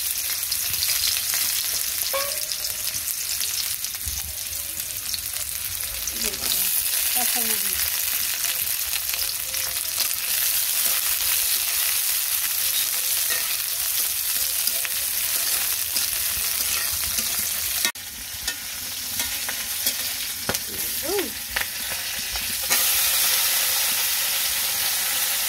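Onions fry in a pan with a long, steady sizzle and hiss, broken by occasional scraping stirs and a brief drop in intensity partway through, heard up close without talk.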